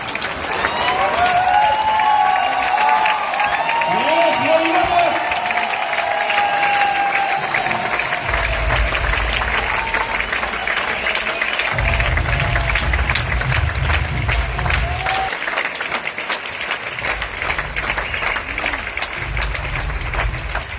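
An anniversary event crowd greets an arriving guest with long, sustained applause and some cheering, dense clapping that runs loud for about twenty seconds over a low rumbling hum and bits of background voice.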